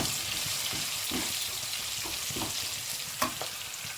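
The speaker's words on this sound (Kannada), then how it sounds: "ಇಲ್ಲಿ ಹುಳಿ ಇದು ಚೆನ್ನಾಗಿ ಫ್ರೈ ಆಗಲಿ ಆನಿಯನ್ನು ಸ್ವಲ್ಪ ಚೆನ್ನಾಗಿ ಫ್ರೈ ಆಗಬೇಕು" Onion and tamarind fry in a pan for wedding-style drumstick sambar, giving a steady close sizzle broken by a few soft scrapes of stirring, with no talking.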